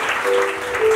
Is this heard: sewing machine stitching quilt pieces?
no